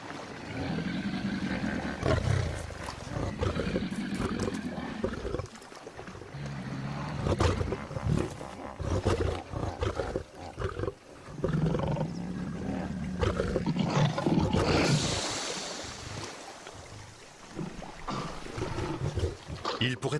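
Lions roar in deep, rumbling, repeated bouts that continue steadily throughout, heavy and close in the wild.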